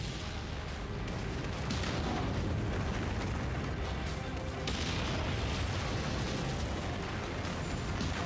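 A destroyed mech explodes in the MechWarrior 5 video game, a dense, continuous roar of booms and rumbling blasts filling the whole stretch with little letup.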